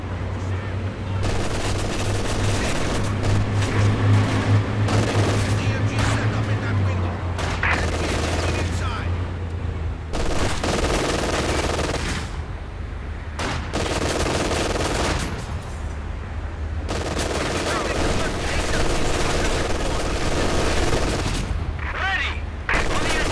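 Machine gun fire in the Company of Heroes 2 wartime strategy game, long sustained bursts of rapid shots rattling on and off with battle noise and voices in the mix.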